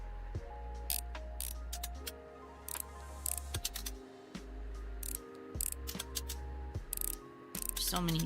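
Screws being backed out of a handheld game device, a run of sharp ratcheting clicks and grinding turns in quick bursts, close and crisp, broken by brief pauses.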